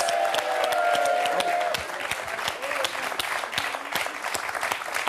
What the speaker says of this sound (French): le public applaudit à un super beau match